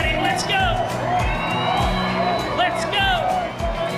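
A rodeo crowd at a bull riding event in Rockhampton shouts, whoops and cheers in loud bursts, with an announcer's voice carrying over the noise.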